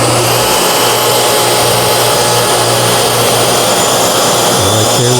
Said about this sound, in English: We're going to hit this lever to start the engine or start the motor on it